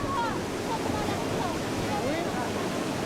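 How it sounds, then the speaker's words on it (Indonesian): Ocean surf churns and washes continuously at Drini Beach, Yogyakarta, mixed with wind buffeting the microphone and faint voices in the background. "itu gede ombaknya itu"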